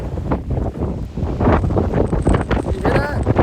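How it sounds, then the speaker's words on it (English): Gusty wind blows outdoors in Hawaii, buffeting the microphone in loud rushes, with a faint higher whistle near the end. "It's so windy out here."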